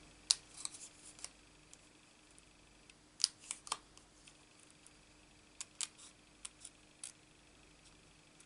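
Sharp little scissor snips cut a handle out of paper for a card project, coming as irregular close, crisp clicks in scattered bursts over a quiet background.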